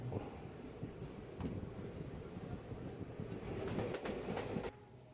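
A train running on rails near Tenali Junction on the Renigunta to Vijayawada route, a continuous low rumble with rhythmic rattling and wind buffeting, heard from on board, easing off near the end.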